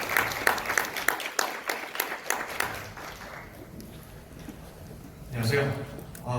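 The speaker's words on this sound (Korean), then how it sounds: "네, 뜨거운 박수로 무대로 모시겠습니다." A seminar audience welcomes a speaker to the stage with a short burst of clapping, a brisk run of hand claps that thins out and fades, followed by a voice starting to speak into a microphone.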